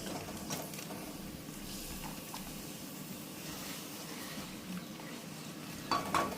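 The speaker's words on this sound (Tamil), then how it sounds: "மோர் மிளகாய் பொரிச்சிட்டாங்க" Buttermilk-soaked chillies (mor milagai) frying in hot oil give a steady, faint sizzling crackle throughout, with a couple of brief clinks of a utensil near the end.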